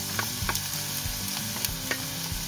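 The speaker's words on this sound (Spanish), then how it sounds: "Aquí ya tengo el aceite listo, así que añado la cebolla" Chopped onion sizzles and fries in hot oil in a pan over medium heat, a steady crackling hiss with occasional stirring taps, no talking.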